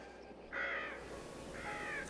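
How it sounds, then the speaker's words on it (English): A crow caws twice, a pair of harsh calls about a second apart, heard clearly over a faint steady background. "A crow."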